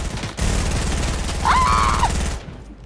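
A rapid burst of automatic gunfire in Fortnite, loud and close, with dense repeating shots lasting about two seconds.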